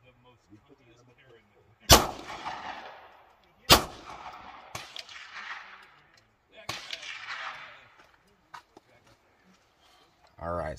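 Firearm test fired outdoors on a trail outing: several sharp, loud gunshots in irregular sequence, each ringing with an echoing decay, separated by quiet gaps, with a voice briefly speaking between shots.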